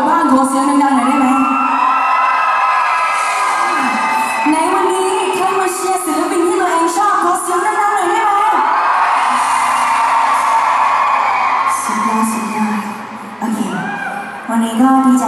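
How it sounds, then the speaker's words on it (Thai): A concert crowd at a band competition mini concert cheers, whoops and yells loudly for over fifteen seconds, a dense continuous roar with shrill shouts rising above it and a voice occasionally heard. "ในวันนี้ใครมาเชียร์คนประกวดบ้างขอเสียงแรงๆหน่อยได้ไหม"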